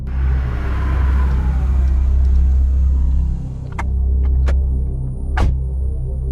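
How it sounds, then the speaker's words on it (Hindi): A car on a road rumbles with a deep, steady engine hum that eases off and fades as it slows to a stop, with a few sharp clicks near the end. "विवेक ने ड्राइवर को गाड़ी रोकने के लिए कहा।"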